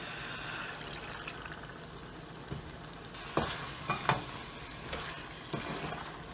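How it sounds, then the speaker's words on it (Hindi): Water added to a sizzling BBQ chicken curry masala with lemon juice hisses and fries in the pan, a steady soft sizzle broken by several sharper stirring scrapes and spoon knocks, close and without talk. "आधा कप जितना पानी डालेंगे इसमें।"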